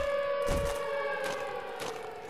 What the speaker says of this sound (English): Bring on the sirens.